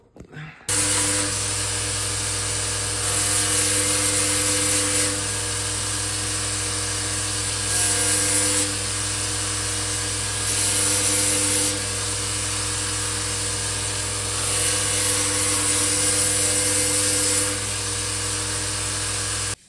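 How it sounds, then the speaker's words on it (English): A power sander whines continuously on wood for a long stretch, its pitch and intensity swelling and easing in repeated passes, with no talk. "I just did a little more sanding there."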